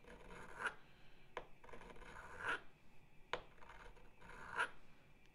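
A countersink's cutting edge being sharpened by hand, heard as about five separate rasping file strokes at a steady, unhurried pace, close and fairly quiet with no talking.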